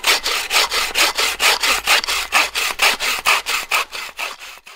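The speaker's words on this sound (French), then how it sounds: "Petite scie qui va bien." A small Boréal 21 folding hand saw rasps steadily through wood in about twenty quick, even back-and-forth strokes, close and clear, outdoors in the Cévennes.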